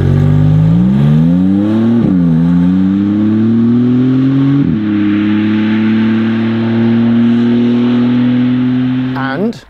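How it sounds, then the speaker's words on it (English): The 3-litre twin-turbocharged V6 of a Maserati MC20 revs loudly and close up, its tone climbing in stepped pulls with sharp breaks between them, then holding at a high steady drone before cutting off. "this MC20 3-litre twin turbocharged V6 engine"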